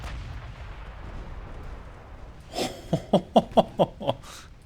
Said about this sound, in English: Firing a 16-inch shell at the Manazuru immediately caused 944 damage